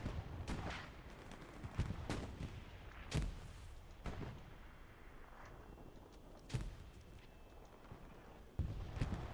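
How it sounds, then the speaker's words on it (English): An anti-tank gun fires repeated sharp booms in a Hell Let Loose match, irregular loud reports every second or two over a dense background of distant battlefield rumble and gunfire. "Check out this AT gun up here on the hill. It appears to be shooting pot shots at the WTH tanks."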